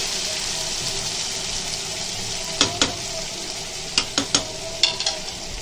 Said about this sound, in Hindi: ये देखो आधा गिलास पानी डाल दिए मसाले का।